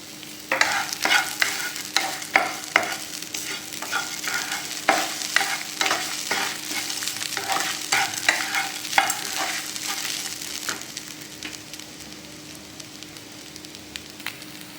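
Ginger and tamarind sauté in a pan, making a steady sizzle with repeated scraping stirs in an uneven rhythm that thins out and quiets toward the end.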